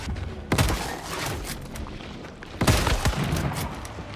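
Explosions in the video game Once Human: two loud booming blasts about two seconds apart, each followed by rumbling debris and crackle, over a steady background din.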